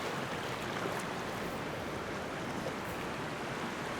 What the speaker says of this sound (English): This is what happens when the waves hit the brine.